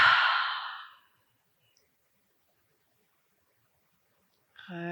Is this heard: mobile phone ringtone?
no